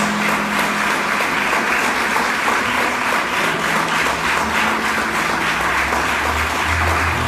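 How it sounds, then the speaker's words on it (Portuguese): A church congregation applauds loudly and steadily during a worship service, a dense, continuous wash of clapping with faint low organ or keyboard tones underneath. "aplauda bem forte ao Senhor Jesus."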